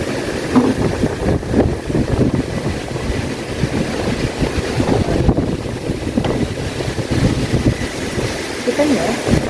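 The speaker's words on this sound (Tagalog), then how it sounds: "Malakas daw yung hangin." Strong typhoon wind of Typhoon Ragasa in Hong Kong roars steadily and loudly throughout, a dense continuous rush with gusty buffeting on the microphone and no clear pauses.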